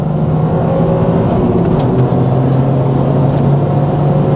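A Toyota GR Corolla engine accelerating, heard as a loud, sustained motor drone with steady tonal hum and a slight rise, close and continuous for the whole stretch.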